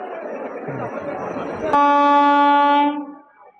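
The Kanchenjunga Express from Sealdah to Silchar departing platform 2 at a station, a loud sustained horn blast cutting through crowd chatter and then fading.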